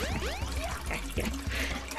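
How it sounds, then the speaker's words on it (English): A toilet flush effect from the PC game Sonic Adventure DX, a rushing, gurgling pour of water running steadily through the whole moment over faint game sounds. "thank you for putting a flush sound effect over that"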